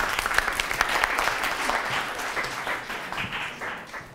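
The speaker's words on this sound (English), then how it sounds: "And a round of applause, please," A college lecture audience applauds a design speaker, lively close clapping that swells early and then gradually tapers off.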